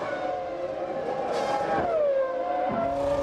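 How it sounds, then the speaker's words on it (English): Eddie Irvine's 1998 Ferrari Formula 1 car, number 2, accelerates out of the pit lane after a quick stop. The engine note is loud and steady, the pitch climbing and falling through gear changes. "On board with Eddie Irvine, and a quick stop by the Ferrari number 2 sees him exit the pits in third place."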